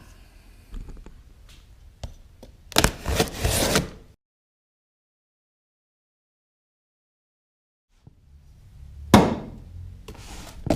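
A cardboard shipping box holding an Amico Power ARC160D stick welder gets opened: a few knocks and a run of scraping, rustling handling early on, then silence, then more rustling and a sharp thump near the end.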